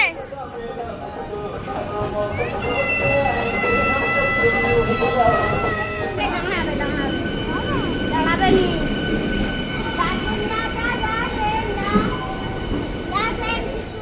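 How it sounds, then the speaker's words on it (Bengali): A Midnapore–Howrah local train arrives at a station on a rainy day: a loud, steady rumble of rolling wagons and squealing wheels fills the scene, with people talking nearby. "মিদনাপুর হাওড়া লোকাল এলো"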